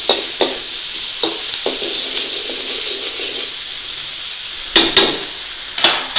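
Onions frying in a pan for keema matar curry, a steady bright sizzle throughout with a few sharp clinks and scrapes of stirring.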